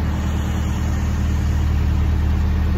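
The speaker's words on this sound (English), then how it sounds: "the canal runs adjacent to the M1 for quite a bit. It's quite loud and it's quite noisy" Continuous motorway traffic from the M1 running beside a canal, a steady low roar of passing vehicles heard at a distance with no breaks for the whole clip.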